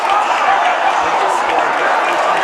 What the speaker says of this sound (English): Third down, the crowd is getting loud.